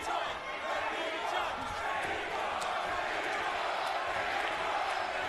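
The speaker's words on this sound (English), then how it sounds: "Crowd chanting again." A boxing arena crowd roars and chants for Jaime Munguia in his fight against Liam Smith, a dense continuous wash of voices with scattered thuds, commentary faintly underneath.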